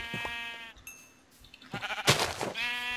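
Sheep in Minecraft give a few bleats, nasal wavering calls near and fairly loud, with a brief noisy burst between them.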